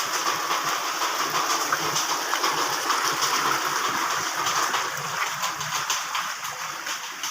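A swollen stream flows with a constant, full rushing noise close by, steady throughout with slight swells in volume.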